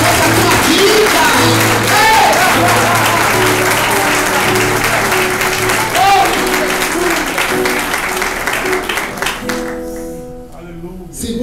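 A church congregation applauds during a Lord's Supper service, sustained loud clapping from a crowd that fills the room, with voices calling out over it and a sustained musical tone beneath, dropping away near the end.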